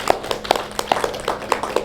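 An audience at a live yoga session led by Swami Ramdev clapping together in a brisk, steady rhythm, close and fairly loud, with a faint low hum underneath.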